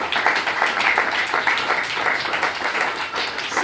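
A church congregation applauds during a worship service, sustained dense clapping filling the room for several seconds at a steady level without a break.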